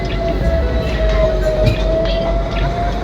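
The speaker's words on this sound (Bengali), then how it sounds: "বাতাসিয়া লুপের উপর দিয়ে আমরা যাচ্ছি, এবার কিন্তু আমাদের ট্রেন দাঁড়াবে না।" A Darjeeling Himalayan Railway toy train rumbles along steadily over the Batasia Loop with a sustained wheel squeal and faint rattling, heard from on board, continuous and moderately loud.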